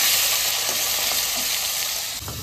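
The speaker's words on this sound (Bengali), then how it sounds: "আর এদিকে বাটা মাছটা ভাজা হচ্ছে" Bata fish frying in hot oil, a steady close sizzle with faint stirring scrapes throughout, no voices.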